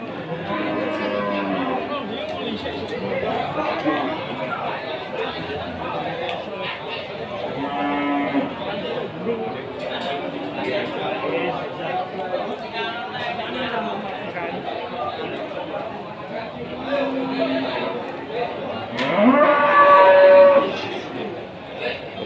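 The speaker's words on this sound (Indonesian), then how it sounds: "Kualitas sapi-sapi hari ini dari Pasar Paingan, Pinang Kutul, Padi, Jawa Tengah" Cattle, including Simmental, Limousin and Ongole-type bulls, low at a livestock market in Pati, Central Java, with several moos breaking through steady crowd chatter and someone talking nearby, one louder call near the end.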